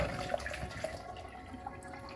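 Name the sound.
water being poured in for peach juice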